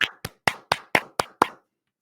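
Seven sharp hand claps ring out close and loud in a steady, evenly spaced rhythm, then stop.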